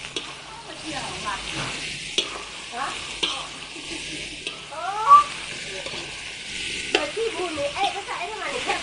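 Beans and rice noodles being stir-fried together in a pan, with soft scraping and stirring over a low sizzle, while a voice talks intermittently at moderate distance.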